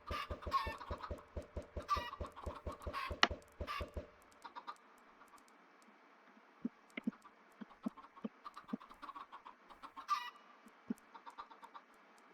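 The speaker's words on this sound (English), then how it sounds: "And just spawning a ton of chickens." Spawned chickens in a survival video game clucking rapidly for a few seconds, then thinning to scattered sparse clucks and a squawk, faint and with no voices.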